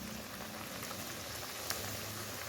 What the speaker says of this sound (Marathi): आता हे तेलामध्ये जेवढे मावतील तेवढे सोडायचे.